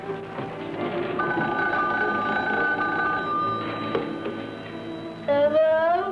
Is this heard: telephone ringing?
yes